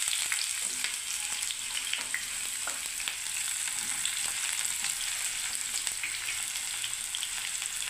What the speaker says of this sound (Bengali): এবারে আমি পেঁয়াজটাকে ভেজে নিচ্ছি